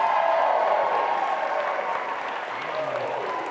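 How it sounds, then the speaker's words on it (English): A live studio audience at a talk show taping applauds steadily, a dense wash of clapping that stays loud and even for the whole stretch with no speech over it. "Give yourselves a round of applause."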